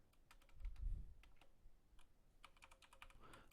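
Keys clack on a computer keyboard in short irregular bursts, close and fairly quiet, entering a command in the Emacs editor on Linux; no voices.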